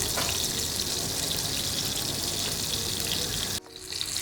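Meatballs fry in a little oil in a pan, giving a loud, steady, dense sizzle that carries on unbroken before dropping off abruptly near the end.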